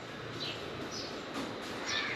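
A bird imitating crow calls gives a few faint cawing calls, somewhat distant, over a steady background hiss, in a room in Kochi, India.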